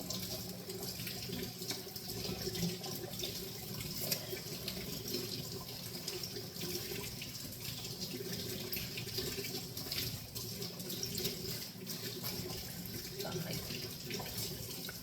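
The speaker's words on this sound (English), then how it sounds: "So I'm just gonna wash this off." Tap water running steadily into a sink as something is rinsed off, a continuous even splashing hiss for the whole stretch, close by, with a brief spoken remark over it.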